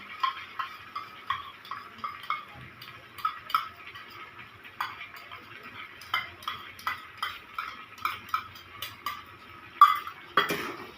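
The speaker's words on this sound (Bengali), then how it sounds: "এই আদা রসুনের পেস্টটা দিয়েও আমি ভালো করে একটু কষবো" Ginger-garlic paste frying in a pan for a green chicken curry, stirred with a utensil that knocks the pan in a steady rhythm of close metallic taps over a light sizzle.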